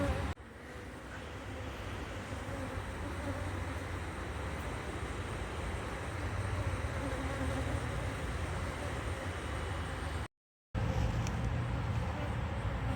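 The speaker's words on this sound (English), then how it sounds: "So many bees in here" Many honeybees buzz steadily inside an open hive box that has lost its queen, a dense, continuous drone lasting throughout with a brief dropout near the end and soft talk mixed in.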